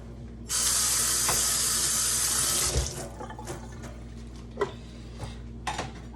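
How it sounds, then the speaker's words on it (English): Water drains from a tin of cooked ackee in a steady rush for a couple of seconds, then stops, followed by light clinks of the tin and utensils. "So I just strain this water off."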